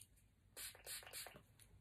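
Spray bottle misting during makeup application: several short, hissing spritzes in quick succession, close to the microphone and quiet overall, with no talking.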